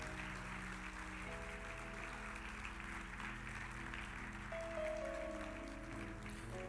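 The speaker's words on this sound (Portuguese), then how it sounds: "Aplaudem mais uma vez o nome do Senhor Jesus Cristo." A church congregation claps steadily through a long, even stretch of applause, with sustained musical tones droning underneath and no one talking over it.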